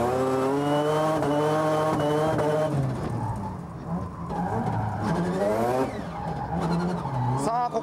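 A drift car at Ebisu circuit howls up through the gears, engine pitch climbing and dropping at each shift as it works through a double hairpin, loud and close, with someone narrating in Japanese over it.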